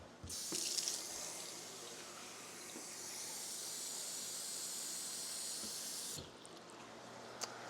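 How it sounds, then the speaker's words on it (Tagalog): Water pours into a pan of sautéed bean sprouts in a steady, gentle hiss lasting about six seconds before stopping, with a soft clunk at the start and end. "I think I'm gonna add a little bit water because I don't want too dry. So we're gonna add more water."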